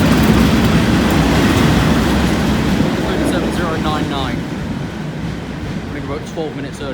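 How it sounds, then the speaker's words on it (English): A 10-car Azuma train approaches on the East Coast Main Line with a loud, broad rumble and rushing roar that eases slightly toward the end, and faint squealing tones come through over it. "the second train is now approaching, which is a 10-car Azuma"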